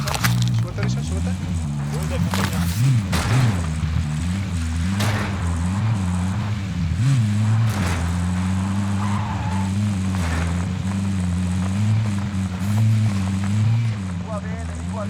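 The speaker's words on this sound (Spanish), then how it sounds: "Aquí tenemos carro. Yo seré su conductora." A car drives in a multiplayer shooter video game, its engine droning steadily with rising and falling pitch throughout, under frequent talk from players.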